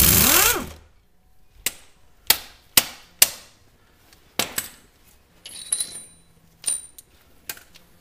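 A hammer drives a punch against a ball joint bolt during a CV shaft replacement, giving about eight sharp, loud metallic strikes at an uneven pace, after a brief burst of noise at the start.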